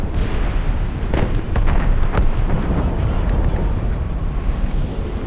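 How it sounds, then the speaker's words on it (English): Deep, muffled booms of cannon fire in Assassin's Creed Rogue rolling through a constant windy rumble, several shots spaced irregularly, sounding distant. "Cannon fire. Deep within the fog."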